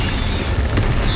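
A Confringo or Incendio spell blast in the Hogwarts Legacy video game, a loud, dense, booming burst that fills the whole short moment with no talk.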